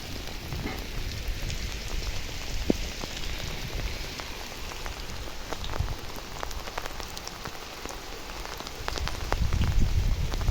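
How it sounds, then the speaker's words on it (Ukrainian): Steady rain patters on a surface with scattered heavier drops, continuous and fairly close, with no voices. "О, дощ."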